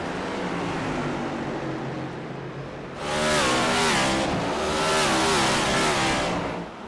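Several stock-style race cars in an ICON Cup sim racing game at Martinsville roar loudly and steadily, their engine notes rising and falling through the corners, with a second car sweeping in close about halfway through.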